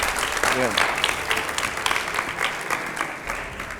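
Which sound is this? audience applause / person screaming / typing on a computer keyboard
audience applause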